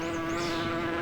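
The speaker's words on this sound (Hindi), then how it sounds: "अरे यार, इन मधुमक्खियों ने तो थका दिया।" A swarm of bees buzzes in a steady, dense drone with a strong low hum, continuous and close throughout with no voices.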